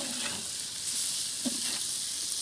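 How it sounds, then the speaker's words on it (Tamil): Chopped onions for country chicken biryani sizzle and fry steadily in a covered pan, a constant close hiss with a few soft stirring scrapes and no talking. "மூடி போட்டு வதக்கிறேன் நான்"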